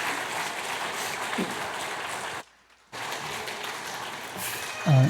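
Congregation applause during a Christmas thanksgiving church service after a baptism, a broad even clapping that breaks off into a short silence, then resumes before a voice comes in at the end.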